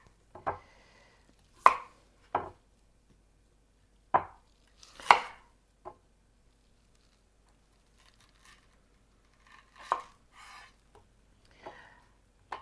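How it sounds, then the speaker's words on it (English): A knife slices through zucchini on a cutting board, sparse sharp thuds spaced a second or more apart, close and clean with no talking. "First, I'm going to slice my zucchini."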